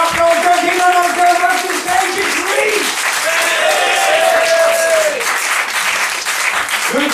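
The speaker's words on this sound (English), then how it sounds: "give the lady a round of applause" Audience at a stand-up comedy gig in Shoreditch breaking into loud, sustained applause with some cheering, a dense wash of clapping close by that lasts the whole stretch while voices rise over it.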